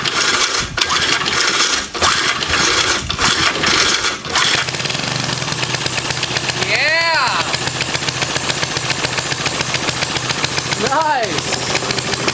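A small gasoline engine on a hydro pump starts and settles into a steady, fast, loud putter. Sharper irregular bursts come early on, then the running note smooths out, with a couple of brief squeaks layered on top.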